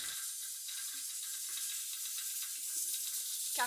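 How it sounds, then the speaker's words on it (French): Chopped tomatoes, carrots and peppers fry with spices in a pan in a medina setting, a faint, even hiss with a few soft stirring taps. "puis on met tout dans une poêle et on rajoute un bon tas d'épices"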